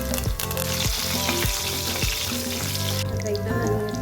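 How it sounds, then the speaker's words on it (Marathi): Mustard seeds, cumin, garlic and curry leaves sizzle and crackle loudly in hot oil for katachi amti, a steady close frying hiss with stirring throughout. "तेल गरम झालेलं आहे, त्याच्यामध्ये घालून घेतो मोहरी 2 चमचे, जिरं, आता घालून घेतो लसूण"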